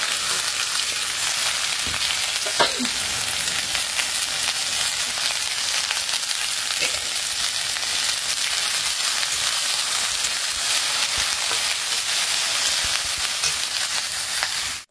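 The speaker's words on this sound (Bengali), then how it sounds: "এখন ভেন্ডি ভাজা বসিয়ে দিলাম।" Sliced okra fries in a pan with a steady, loud, continuous sizzle and occasional faint crackles, close by and without talk.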